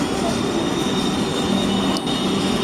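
Vande Bharat Express 22961 pulling into platform 3 at Surat station, a loud, steady rumble of rolling coaches with a faint high whine, continuous and close throughout.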